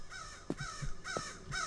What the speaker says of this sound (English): that bird just flew through me